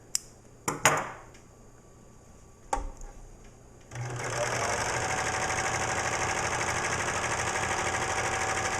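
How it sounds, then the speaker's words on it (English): A serger overlocks a fabric edge with a steady, loud mechanical whir that starts abruptly and runs without a break. A few sharp clicks and knocks come first, before the motor gets going. "I love a serger. makes such a nice clean edge. Keeps the fabric from raveling."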